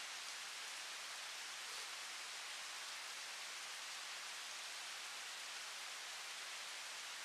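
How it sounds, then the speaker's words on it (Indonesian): Steady rain falls around hot springs at Rebak in West Bangka, a dense, even hiss that continues without pause and without voices throughout. "Lagi hujan."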